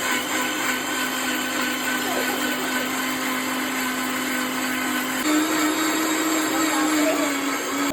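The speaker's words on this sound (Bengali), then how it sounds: "এটা আমরা ব্লেন্ড করে নেব এবার।" A blender whirs steadily through strawberries, a loud continuous motor whine that shifts slightly in pitch toward the end.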